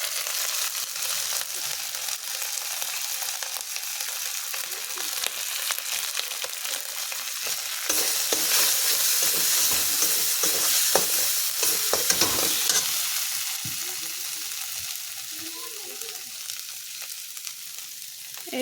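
Ground ginger, garlic and onion paste frying in hot oil in a pan for egg curry, a steady bright sizzle with occasional stirring scrapes, swelling louder midway before easing back.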